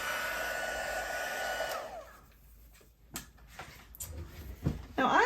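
A heat embossing tool blows hot air over stamped paper while making a layered floral card, a loud steady close whoosh for about two seconds that cuts off, followed by light handling clatter and knocks.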